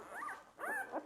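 Newborn goldendoodle puppy giving two or three short, high whimpering yips while being handled, close and fairly soft with quiet pauses between cries.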